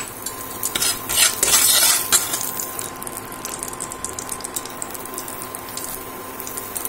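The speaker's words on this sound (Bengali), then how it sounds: "ফোড়ন দিয়ে দিলাম।" Spices tempered in hot oil in a pan for khichuri, with a bright, steady crackling sizzle that swells early, then settles into continuous spitting and popping, close and loud, no talking.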